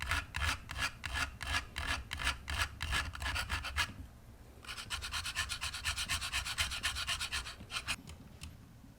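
An egg shell scratched in a scratch test: rapid rhythmic rasping strokes in bursts, a short pause, then a faster run of fine scratching, close and distinct with no voices.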